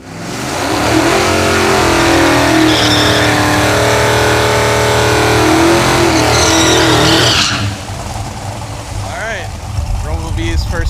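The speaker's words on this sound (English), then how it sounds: "And then I'll be ready to make a nitrous pass." A Hemi-powered drag car makes its first nitrous pass, the engine roaring hard and close for several seconds before dropping away into fainter, rougher engine noise with some voice underneath.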